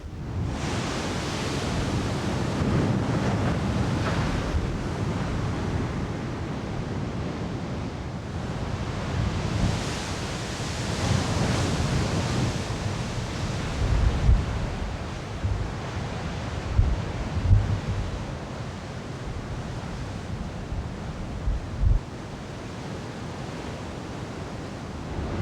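Heavy ocean surf and gusting wind roar along the Oregon coast at Shore Acres, a continuous broadband rush swelling and easing in waves, with occasional low thuds of wind buffeting the microphone.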